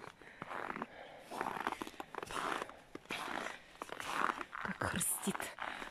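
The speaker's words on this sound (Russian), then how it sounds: "Как хрустит снежок, слышите?" Fresh winter snow crunches underfoot outdoors in a steady series of crisp, gritty steps close by, while someone talks over them.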